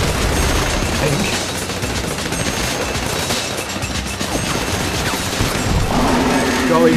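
Minigun fire in GTA V Online adversary mode, loud continuous rattling bursts with booms, while players talk over the din.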